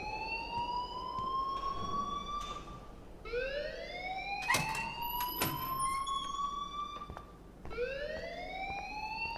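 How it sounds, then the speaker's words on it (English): A rising-and-falling electronic alarm wails repeatedly at moderate volume in the Life Is Strange video game, each sweep climbing then dropping, with a couple of sharp clanks cutting through the middle and no talking. "please turn off that alarm since that's your job"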